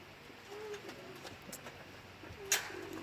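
Pet pigeons or doves kept in a cage give soft, faint cooing calls against a quiet outdoor background, with a few brief sharper sounds in between.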